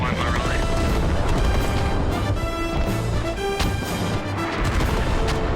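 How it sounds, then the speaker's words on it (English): Mortar fire in the combat game Squad: heavy booms and crashing impacts scattered through a dense battlefield din, loud and constant, with voices talking over it. "Mortar is also being utilized on the point too"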